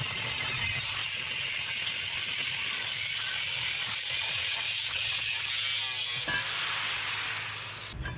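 A metal bracket piece cut out in a car-welding shop gives a steady, loud, high-pitched grinding whine that runs unbroken for about eight seconds, then ends in a brief knock.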